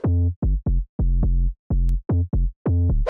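A dry synth sub bass made in FL Studio for anime-style bass house, with no effects applied, plays a syncopated pattern of short and held low notes with clear harmonics, loud and alone, ending in a brief noisy hit.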